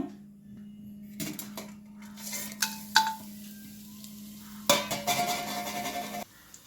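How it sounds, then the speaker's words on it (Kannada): Cinnamon, fennel seeds and a bay leaf go into hot oil in a pan. Clinks of a utensil against the pan come first, then a sudden sizzle rises, holds briefly and cuts off, over a faint steady hum. "ಇದನ್ನು ಬಿಸಿಯಾದ ಎಣ್ಣೆಗೆ ಹಾಕ್ಕೊಳ್ತೇನೆ"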